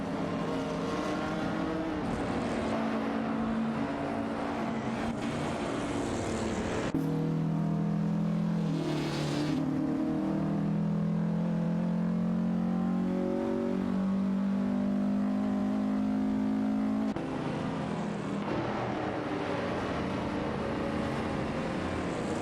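Two race cars in an AI-driven race scream past in close company, a loud sustained engine whine rising and shifting in pitch through the gears, with no talk over it.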